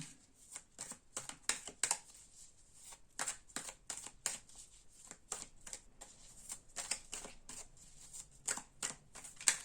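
Tarot cards being shuffled by hand for a love reading, a steady run of crisp riffling bursts and soft slaps repeating close up for the whole stretch, with no one talking.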